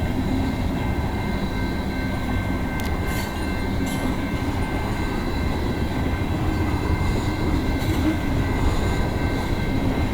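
A freight train with tank cars rolls steadily past at Egerton Street in London, Ontario, a continuous loud low rumble of wheels and cars with faint metallic squeals and occasional clacks over the whole stretch.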